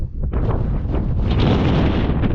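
Strong wind in the Wicklow Mountains buffets the microphone, a loud, continuous roaring rush that swells slightly and stays steady throughout, with no voices.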